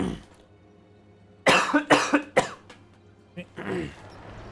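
A man clears his throat and coughs several times in quick bursts, close and loud, after a quiet pause, with a softer cough trailing at the end.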